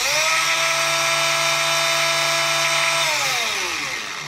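A new, not yet broken-in Flexa cordless angle grinder runs at a loud, steady high-pitched whine close up, then winds down as it is switched off.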